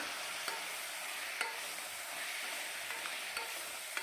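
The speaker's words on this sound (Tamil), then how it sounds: "இதை ஓரளவுக்கு நல்லா பரட்டி விடுங்க" Carrots, beans and green peas sizzle in a frying pan while a utensil stirs them, with a few soft scraping clicks over the steady hiss.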